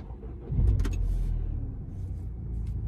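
A 2009 VW Scirocco 2.0 GT with DSG gearbox cranks and fires into life, a brief low engine surge settling into a steady idle rumble, close and without talk.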